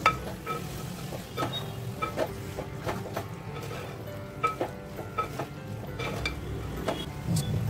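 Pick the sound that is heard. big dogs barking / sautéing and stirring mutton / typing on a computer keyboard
sautéing and stirring mutton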